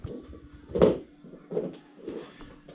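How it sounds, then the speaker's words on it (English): A dog chewing on a bone: soft, irregular chewing and gnawing sounds, close by and quiet, with a few louder crunches among faint scraping. "The noise you hear is Zeus chewing on his bone over there."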